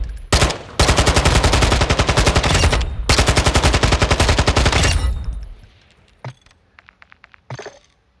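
Rapid automatic bursts from the F-Tac Ripper in Call of Duty Warzone, a high-velocity 60-round weapon tuned for recoil smoothness: two long, loud sustained strings of fire separated by a short gap, then fading into quieter scattered clicks and tails.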